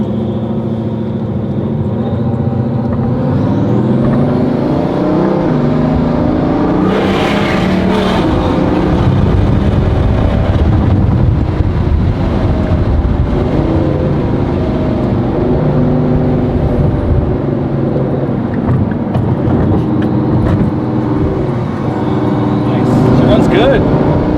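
A rebuilt, previously flood-damaged Bugatti Veyron drives along, its engine droning loudly and continuously with rising and falling pitch through gear shifts, voices speaking over it.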